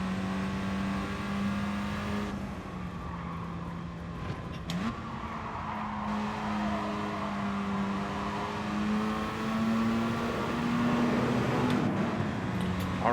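Race car engine held on light throttle in Gran Turismo Sport during an FR Challenge race, a steady loud drone with gently rising and falling pitch, one brief blip near the middle, no voices.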